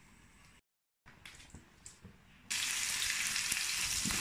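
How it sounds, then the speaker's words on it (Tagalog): Cucumber sautéed with garlic and onion in a pan for a Chinese-style pork dish bursts into a loud, steady sizzle midway through, after a few quiet moments of faint handling sounds. "Gigisa ko lang din siya sa garlic at ano, o sibuyas."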